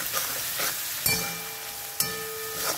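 Mashed katla fish fries in a pan with a steady sizzle, broken by two sharp clinks of a utensil against the metal.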